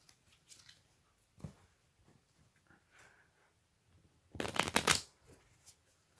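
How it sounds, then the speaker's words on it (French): A deck of playing cards gets a single quick riffle shuffle, a short crisp flurry of snapping cards after a few quiet handling taps, recorded close in an otherwise hushed room. "faire un petit mélange américain sans que les cartes se barrent"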